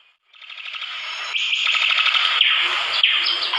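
Birds in Papua chirp and call in a dense, bright chorus that swells after a brief silence and stays loud and steady throughout.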